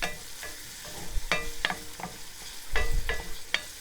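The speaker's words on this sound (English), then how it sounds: "Kind of keep them stirred because I don't want to burn the garlic" Onions and garlic frying in a pan while being stirred, with a steady soft sizzle under repeated scraping and clattering strokes of the utensil, close up and without talk.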